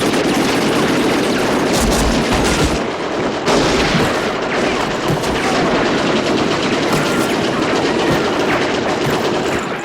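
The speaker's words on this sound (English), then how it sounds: "Josey spots a few soldiers getting ready with Gatling guns" Gatling guns rattle in a film battle scene, a loud, dense stream of rapid gunfire with sharper bursts poking through the continuous roar of the fight.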